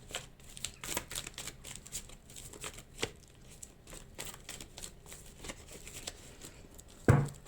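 Tarot cards shuffled by hand in quick, soft riffling bursts and rustles, close and faint, ending with a louder slap as the deck is cut, no talking.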